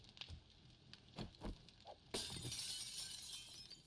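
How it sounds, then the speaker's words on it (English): Glass blocks being broken into broken glass in the survival game 7 Days to Die, a few scattered knocks and then a sudden bright shattering burst that keeps tinkling and crackling, moderately quiet with no talking. "Let's see if I can take the glass blocks and break them into broken glass"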